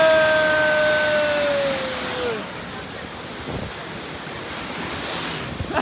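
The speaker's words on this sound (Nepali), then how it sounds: "यस्तो हावा चलिरहेको छ" Steady wind gusts roar beside a cold river fed by Himalayan water, a broad, even rush that sits close to the microphone, with a faint high whistle fading out in the first couple of seconds.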